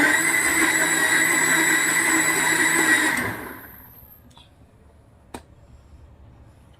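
A kitchen blender whirring through a mango ice cream mixture, running loud and steady for about three seconds before switching off and spinning down, followed by near quiet with a small clack.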